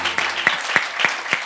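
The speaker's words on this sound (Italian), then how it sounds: "grazie, un applauso, un applauso." Audience applause in the studio at an Italian TV talent contest final, a steady patter of claps with several sharper bursts standing out, fairly close and moderately loud.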